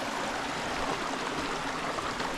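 Water in a creek near its start rushes steadily over rocks in a dense, continuous hiss, close and evenly loud throughout with no voices.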